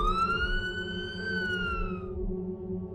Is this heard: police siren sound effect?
yes